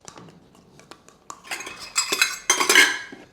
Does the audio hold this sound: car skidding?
no